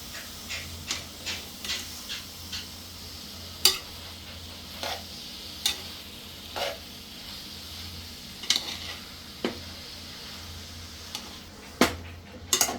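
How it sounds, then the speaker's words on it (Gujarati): Carrot halwa stirred in a pan with a spoon, soft scraping strokes and occasional sharp clinks of utensil on metal, close and intermittent over a faint low hum. "હવે આપણે એને હલાવી લેશું."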